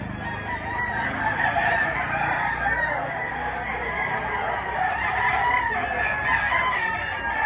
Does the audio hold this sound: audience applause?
no